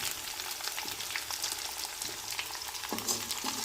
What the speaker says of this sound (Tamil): கடுகு போட்டு நல்லா கடுகை பொரிய விடுங்க